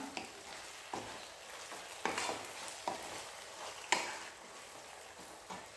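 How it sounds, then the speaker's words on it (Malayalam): Onions frying in a pan with sauces being stirred in, a steady low sizzle broken by several distinct scraping stirs of the spoon, fairly close and moderately quiet, with no voices. "ഇനി നമുക്ക് സോസുകൾ ഒഴിച്ചു കൊടുക്കാം. നമുക്ക് നന്നായിട്ട് ഇളക്കി കൊടുക്കാം."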